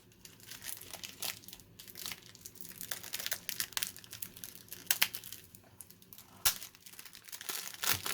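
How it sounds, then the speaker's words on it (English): Plastic shrink wrap crinkles and tears as it is ripped off a boxed Legend of Zelda: Tears of the Kingdom collector's edition game, close and moderately loud, with irregular crackling bursts and sharp rips throughout. "Probably hear the crinkle of the plastic as I bust into this thing"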